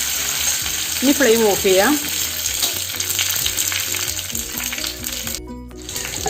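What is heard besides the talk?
mustard seeds and curry leaves sizzling in hot coconut oil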